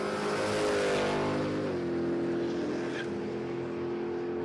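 Drag racing cars at Palmyra Raceway, among them an E-type Jaguar and a big-block Camaro, roar loudly with a sustained engine drone that shifts pitch as a car accelerates down the strip.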